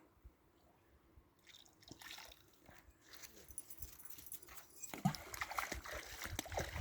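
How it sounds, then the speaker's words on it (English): A dog splashes through water at a camp outdoors, with faint drips and sloshes at first growing to louder, closer splashing toward the end. "That dog loves the water."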